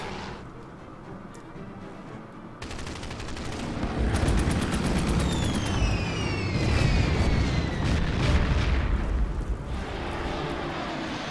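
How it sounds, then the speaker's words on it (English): Artillery bombardment in the wartime strategy game Order of Battle: after a quieter start, rapid bursts of booming and crackling fire, with sharp repeated impacts and whistling streaks, build into a dense, loud barrage. "It's just a lot of artillery and bombarding."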